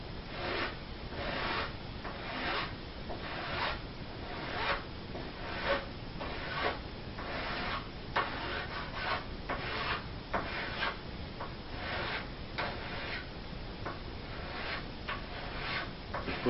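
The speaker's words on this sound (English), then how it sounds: "just push down on the file on the forward stroke, not on the back stroke" A hand file rasps along the edge of a CNC router table, with steady repeated forward strokes in a close, even rhythm and no voices.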